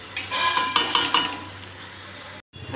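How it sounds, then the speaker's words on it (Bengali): Bitter gourd fries in a pan, and a close sizzle is broken by several quick stirring scrapes and clinks early on, then settles into a steady hiss before a brief cut. "হ্যাঁ হয়ে গেছে, উচ্ছে করলা ভাজা হয়ে গেছে।"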